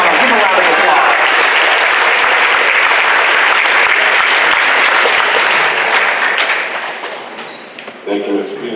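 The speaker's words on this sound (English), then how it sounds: "give him a round of applause" Audience applause welcoming a speaker onstage at a Black History celebration, a dense, loud roomful of clapping that carries steadily, then thins and fades with some cheering near the end.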